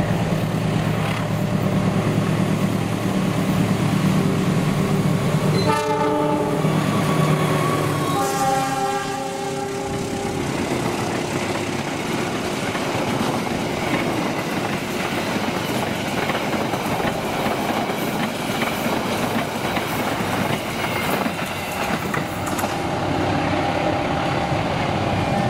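Argo Dwi Pangga passenger train passing close by on a panoramic run, a loud sustained horn blast with stepped tones early on, then continuous heavy wheel clatter and rumble throughout.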